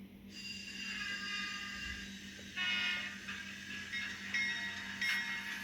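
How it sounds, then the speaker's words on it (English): A model train locomotive running an ESU ES44 diesel sound file hums steadily at close range, with mechanical clanking and shifting engine tones partway through. "which is ESU's ES44 sound file"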